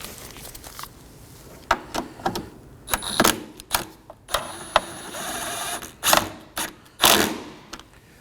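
Ratcheting wrench snugging down a 10mm bolt near the wiper motor on the cowl of a 2014-2023 Ford Transit Connect 2.5L, a quick series of close, sharp mechanical clicks in irregular bursts.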